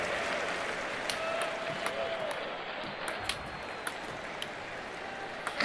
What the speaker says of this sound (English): The crowd are on their feet with that point one.